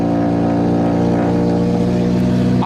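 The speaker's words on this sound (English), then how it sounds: "that is the worst sounding exhaust I've ever heard in the history of fucking exhaust" A ruined Sol car's bad-sounding exhaust, loud and steady on its first start-up, droning with a rough low rumble throughout.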